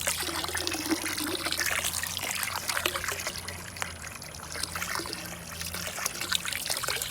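Container being filled with water for compost tea, a steady splashing pour and trickle running close and continuous without a break.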